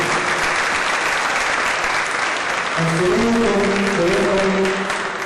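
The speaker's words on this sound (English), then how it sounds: "Let's give them a round of applause" Audience applause at an awards ceremony, a loud continuous wash of clapping, with a voice speaking over it in the second half.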